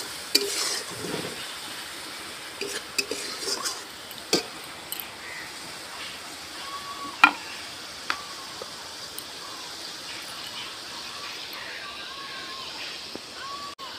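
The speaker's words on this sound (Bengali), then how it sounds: "লঙ্কার গুঁড়ো দেব, দিয়ে আরেকটু কষিয়ে নেব" Chicken pieces frying in a pan with chili powder, a steady soft sizzle broken by occasional scraping and tapping as they are stirred, close and fairly quiet, with someone talking faintly over it.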